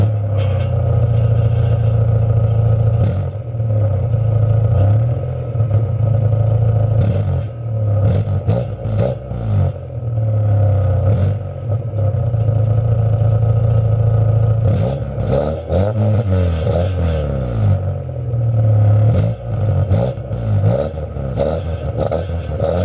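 Car with a modified exhaust, raised on a stand and revved, a loud close engine drone with repeated rising and falling revs and throttle blips, alone without talk.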